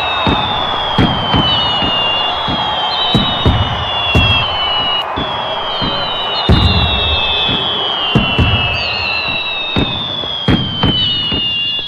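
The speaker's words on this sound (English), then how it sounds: "The fireworks is about to begin now." Fireworks bursting in a continuous outdoor display, with repeated sharp pops and crackles and whistling rockets rising over a steady roar, mixed with distant crowd cheering and whoops.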